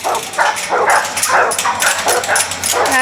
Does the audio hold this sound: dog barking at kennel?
yes